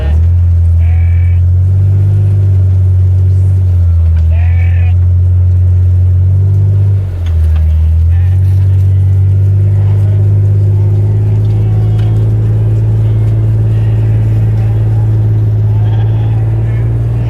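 A car driven around a sheep farm gives a loud, steady low engine rumble close by throughout. Sheep bleat briefly a few times over the drone.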